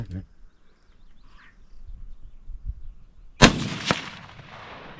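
Pistol fired outdoors at a target: after a quiet stretch of faint background, two sharp, loud reports ring out about half a second apart, each followed by a short decaying tail.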